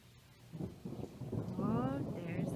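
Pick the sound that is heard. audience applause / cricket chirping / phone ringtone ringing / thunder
thunder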